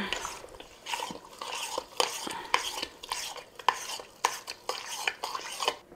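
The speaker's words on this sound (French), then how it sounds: "on va mélanger tout ça" Courgette and pepper relish with vinegar is stirred in a pot, a repeated swishing, scraping rhythm of spoon against metal, close and moderately loud, with no speech.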